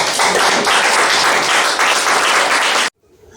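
Loud, dense applause from an audience at an outdoor plot-handover ceremony in Jacqueville, sustained clapping that cuts off abruptly near the end, leaving near silence.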